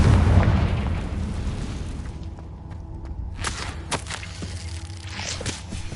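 A Confringo blasting spell explosion in Hogwarts Legacy, a loud low boom rumbling at the start and fading, followed by scattered sharp pops and crackling debris impacts.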